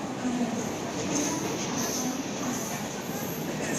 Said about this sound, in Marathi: railway station